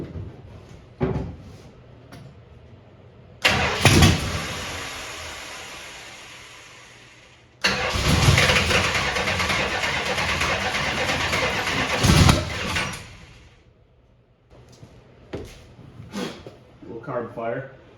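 A Plymouth Belvedere running on race gas with the choke turned up cranks and catches, roaring loudly for a few seconds, dies, then starts again into a sustained rough rumble before cutting out, with sputters and clunks afterward.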